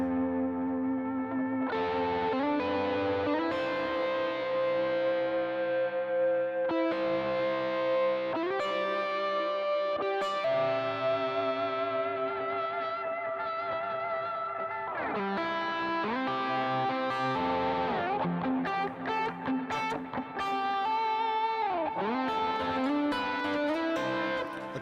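Electric guitar at full volume, driven through overdrive pedals, plays loud sustained chords and riffs with heavy distortion, echo and chorus. It rings continuously for about 25 seconds with no voice.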